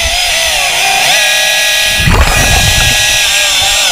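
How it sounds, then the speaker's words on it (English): A loud, steady underwater chainsaw drone runs throughout as a diver cuts a wood piling, with a burst of churning, thudding low-end noise around the middle as the blade bites harder. "I'm just going to try to brace myself and put a little more pressure behind that saw there"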